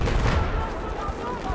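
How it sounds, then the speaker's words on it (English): Dense, continuous gunfire and distant explosions in the video game Battlefield 4, a loud, rumbling battlefield wash with overlapping shots. "There's rounds going everywhere."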